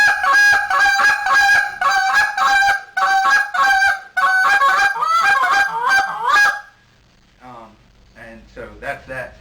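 A handheld goose call blown in a contest sequence gives a rapid, loud run of sharp honking spit notes and a single cluck, then a voice speaks briefly afterward.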